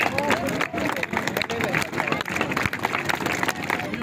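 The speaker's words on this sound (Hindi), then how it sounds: "तालियां बनेगी आपकी जोर से" Schoolchildren at a magic show in a government high school applaud loudly and steadily, a dense, continuous wash of clapping with crowd noise and voices underneath.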